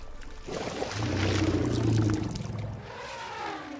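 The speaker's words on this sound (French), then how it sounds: "La rivière." The Ewaso Nyiro river in Kenya's arid north flows with a broad, steady rushing wash that swells in the middle and eases toward the end, heard alone with no voices.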